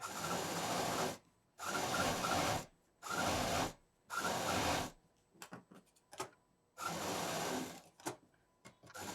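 A sewing machine runs in steady bursts of a second or so, stitching the length of a long fabric strip, with short pauses and light handling clicks between runs, close and clear with no talking.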